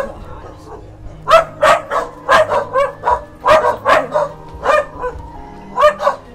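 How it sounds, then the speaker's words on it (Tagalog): A dog at a run-down house barks repeatedly in a steady string of sharp, fairly close yaps and woofs, with some whimpering between them. "Kahol na kahol."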